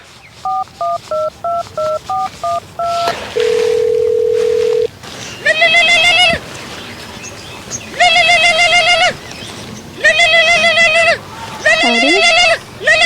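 A quick string of keypad dialing tones, then a long steady tone, followed by four evenly spaced bursts of phone ringing, loud and close, from a phone call being placed.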